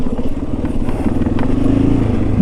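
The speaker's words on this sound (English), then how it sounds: "First trail riding experience on the bike." A 2023 KTM 500 EXC-F dirt bike engine drones steadily up close on a rocky, technical trail, with a rising rev and rattling clatter of the bike over rough ground.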